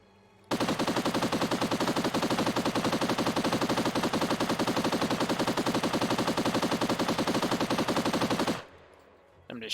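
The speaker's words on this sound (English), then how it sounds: "I'm just shooting at the bad guys there" A World War One machine gun in a video game fires one long unbroken burst of rapid, evenly spaced shots lasting about eight seconds, loud and close, then stops abruptly into near quiet.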